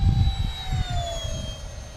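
A Hobbyking Sport Jet 70 RC model jet passes by at roughly 95 miles per hour, a steady loud whine that slowly drops in pitch as it moves past and away, heard alone with no talk.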